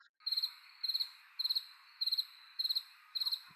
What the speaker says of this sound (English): if you just throw some crickets in there, that'd be great.